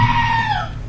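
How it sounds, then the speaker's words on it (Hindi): A goat screaming, one loud close bleating cry with a wavering pitch that fades out under a second. "मैं इस चिल्लाने वाली बकरी को सुन रहा हूँ ना।"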